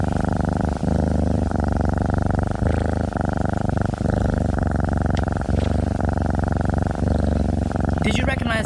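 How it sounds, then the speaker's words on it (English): A healthy domestic cat purrs steadily and close up, a loud rhythmic rumble pulsing without pause for several seconds before a brief rustle at the end. "That's the sound of a healthy, well-cared-for cat."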